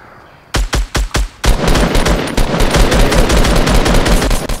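Video game gunfire opens with four spaced single shots, then breaks into sustained rapid automatic fire, loud and close, with no voices over it.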